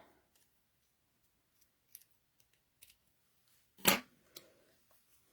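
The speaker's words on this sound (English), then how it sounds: "My paper snips. Just come in here and cut that." Paper snips make a single crisp cut through paper, preceded by a few faint small clicks and followed by brief quiet handling, close and isolated with no speech.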